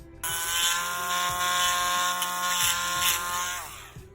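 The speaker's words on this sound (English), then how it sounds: "And so we'll take our sanding bit." A rotary sanding bit whines steadily as it smooths the wrist of a 1:4 scale NECA Wonder Woman figure, a close, loud, high-pitched motor drone with slight pitch shifts as it bears on the plastic.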